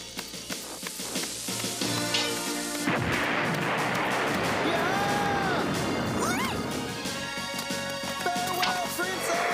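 A cartoon bomb blows apart the Triforce: a sharp smash at about the three-second mark, followed by a roaring, crackling blast with debris, all under a busy animated soundtrack with whistling effects.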